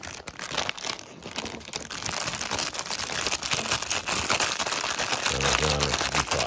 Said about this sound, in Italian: come si aprono questi sacchetti